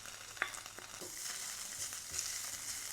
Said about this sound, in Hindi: अब इसके अंदर प्याज डाल देते हैं।